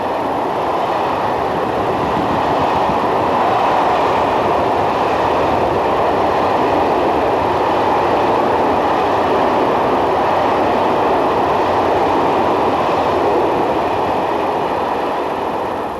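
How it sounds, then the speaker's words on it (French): Blue Vintimille-Paris train rushing through a station at speed, a loud, steady roar of wheels and rail noise holding for the whole stretch, with no voices. "l'indétrônable train bleu Vintimille-Paris traverse la gare en trombe"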